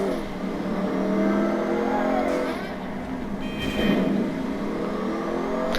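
A car in GTA Online drives along with its engine revving up and easing off in swells, close and fairly loud, over a continuous background bed.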